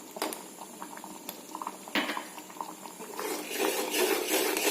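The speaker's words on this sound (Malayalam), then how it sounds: "സപ്പോട്ട തിളച്ചു" Sapota pulp bubbles in a pot on the stove, soft irregular pops and gurgles with a brief clink near the middle and a louder, busier simmer toward the end.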